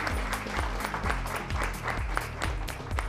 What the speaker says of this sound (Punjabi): ਇੱਕ ਵਾਰ ਤਾੜੀਆਂ ਨਾਲ ਲਈ।